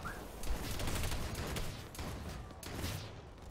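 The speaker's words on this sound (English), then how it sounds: "You're going to keep shooting vigorously at the count of three" Guns firing rapidly during a shooting training drill, a dense, continuous crackle of overlapping shots, distant and fairly faint, with no pause between them.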